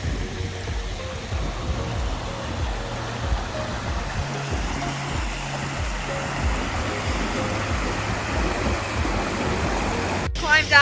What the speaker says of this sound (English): I wanted to get close to this waterfall.